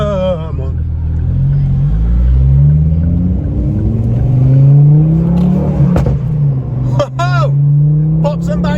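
A 313 bhp Mk2 Ford Focus ST with a Milltek exhaust rumbles and revs loudly from inside the car, with sharp pops and bangs near the end and people talking over it.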